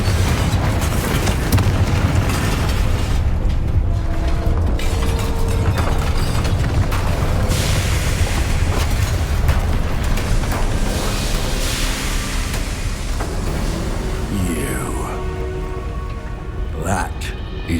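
In Hogwarts Legacy, Confringo blasting curses explode in a dense, continuous rumble of booms and crackling debris that patters like heavy rain, loud and close for the whole stretch, with whooshing sweeps near the end.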